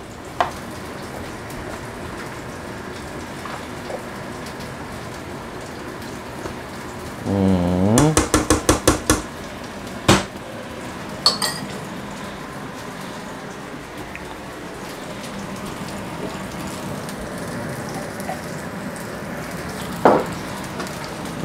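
Salmon and rice being stirred in a hot frying pan, with a steady, low sizzle throughout and a short run of quick metallic clinks from the utensil against the pan partway through.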